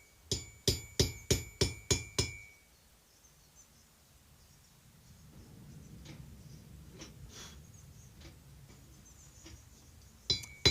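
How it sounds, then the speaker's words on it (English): A hammer peening a forged steel bowl lathe hook on an anvil: seven sharp, evenly spaced ringing strikes, then quiet shuffling, a few light taps and two more hits at the end. "just a bit more peening"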